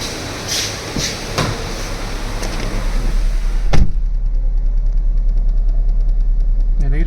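Car engine idling with the AC compressor coupler engaged and a vibration fault: a steady low engine drone that grows heavier and more throbbing after a brief clunk partway through, continuous and close.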